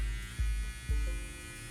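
A Kemei KM5027 hair trimmer runs with a steady, close electric buzz, with two brief bumps in level as its power setting is stepped up.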